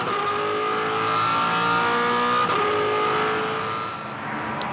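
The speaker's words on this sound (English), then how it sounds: "Doesn't that look and sound fantastic as the cars negotiate the bridge at turn 4?" V8 Supercars race cars around the hairpin at the 2007 Tasmania Challenge, their engines roaring loud and steady as they accelerate and pass, with rising engine pitch and a brief faint tyre squeal.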